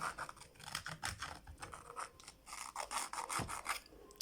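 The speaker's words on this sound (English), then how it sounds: "I'm going to just pick up my sandpaper and try to reduce it." Repeated rasping strokes of sandpaper on a handmade women's office sandal, a steady run of short scratchy rubs close by with no talking.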